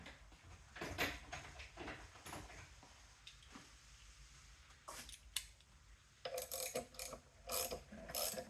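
A ratchet turns in bursts of rapid clicking as a bolt is tightened on a BMW R69S motorcycle engine, with quiet pauses between the strokes.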